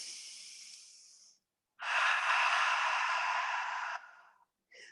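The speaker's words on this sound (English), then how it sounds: "Breathe." Two long, deep breaths during a yoga class, a steady exhale-like rush lasting a few seconds each, close and fairly soft, with a brief pause between and no talk.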